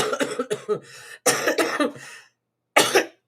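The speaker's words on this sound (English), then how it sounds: "See? I'm coughing." A run of harsh coughs in three bursts, the first a rapid series, then a loud cluster, then a final cough after a short silence; close and loud.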